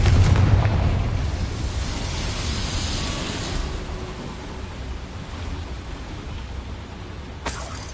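The Confringo fire spell blasting in Hogwarts Legacy inside a small mine, a loud rumbling burst that fades into a long, dense roar, with a short crackle near the end.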